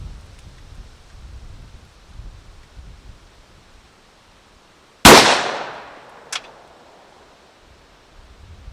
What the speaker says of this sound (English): Again, we got a safe area to shoot to, so Marcus, shoot that forward.